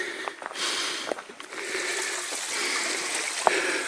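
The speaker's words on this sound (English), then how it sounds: "Just a little trickle of water on the creek" A small creek near Port Alberni trickles with a steady, close rushing wash of water, broken by a few light splashes and clicks.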